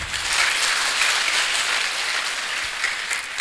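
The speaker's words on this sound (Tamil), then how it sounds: "ரைஸ்டீனுக்கு ஒரு கரகோஷம் இல்லையா?" A crowd at an inter-school quiz event applauds steadily, dense continuous clapping that fills the room at even loudness throughout, with no speech over it.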